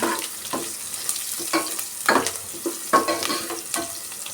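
Chopped ridge gourd with a pinch of asafoetida is stirred in a pan: repeated close scrapes and clacks of a spoon over a steady frying sizzle, in uneven strokes, with no voices.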